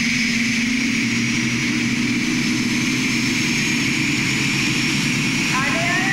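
A turbine-powered pulling tractor of about 3.4 tons roars at a European tractor pull in Bernay, France, its loud steady jet whine filling the air with a rising engine note near the end as an announcer talks over it.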